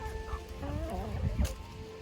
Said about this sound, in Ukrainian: Дивіться, курочки їдять